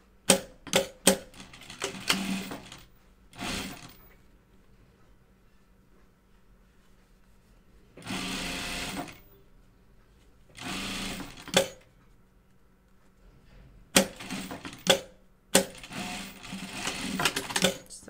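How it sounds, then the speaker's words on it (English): Sewing machine hemming the top edge of a fabric face mask, several short bursts of rapid mechanical stitching separated by pauses, close and fairly quiet. "And now hem your top edge."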